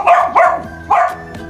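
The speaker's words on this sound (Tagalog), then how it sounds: "maingay po ang aso" A dog on a small farm barks three times in close succession, loud and near, each bark sharp with a short gap between.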